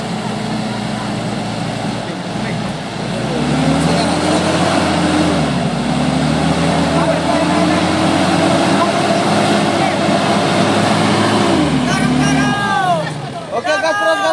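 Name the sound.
Mitsubishi Strada Triton 4x4 truck accelerating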